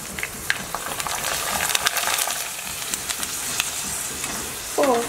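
Papad fries in hot oil, a close crackling sizzle with scattered pops and utensil clinks, then a brief voice near the end.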